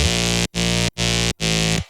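A dubstep synth with phase distortion and low-mid crunch plays four sustained buzzy notes in a row, each cut by a brief gap, loud and dense with no voice.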